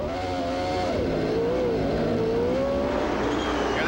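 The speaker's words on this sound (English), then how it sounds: "Different sound on that Honda engine." A Honda-engined CART race car screams past during the 1994 Vancouver street race, a loud, close, high-pitched engine whine that bends and shifts in pitch continuously as it goes by, with no talk over it.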